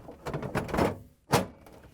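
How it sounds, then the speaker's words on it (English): A plastic ice bin for a Samsung refrigerator ice maker is slid into place with a scraping slide, then a firm thunk as it seats, both close and clear. "sliding in the ice bin and over assembly"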